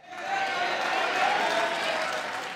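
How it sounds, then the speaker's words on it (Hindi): A studio audience at the Pakistani comedy talk show Hasna Mana Hai claps in a steady, dense burst of applause lasting a couple of seconds, with voices mixed in. "वो तालियां बजाए"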